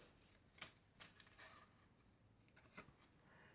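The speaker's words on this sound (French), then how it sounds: "Alors on va prendre encore deux cartes." Oracle cards drawn from a deck in a soft shuffle, with several quiet papery flicks and slides spread across a few seconds, close and faint, no talking.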